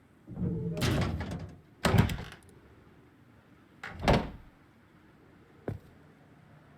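A garage door in the video game Rust, with several heavy clanking slams and sliding rumbles in a row, each loud and short, then a sharp final knock.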